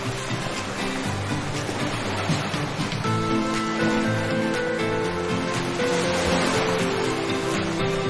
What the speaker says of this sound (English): The waves were humongous.